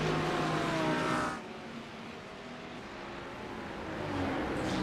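GT3 race cars, a BMW among them, roar past at Road Atlanta during a chaotic opening lap. Engine noise is loud at first, dips to a steadier mid-level drone, then swells again as another car closes in.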